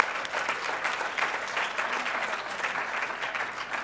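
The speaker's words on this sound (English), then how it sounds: "Let's give them a round of applause" Steady audience applause fills the room at a church gathering, a dense, even patter of many hands clapping continuously at moderate volume, with no voices rising above it.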